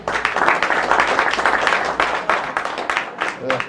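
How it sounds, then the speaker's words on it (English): New students at a college general assembly being clapped for by the gathered crowd, a dense burst of many hands clapping, close and loud, tapering slightly toward the end, with voices underneath. "give them a very strong hand clap"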